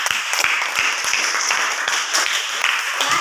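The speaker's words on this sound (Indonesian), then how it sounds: "beri tepuk tangan teman-teman ya" Applause from a class of primary school pupils and teachers during a student teaching lesson, steady dense clapping with sharp individual claps throughout, fairly loud and close.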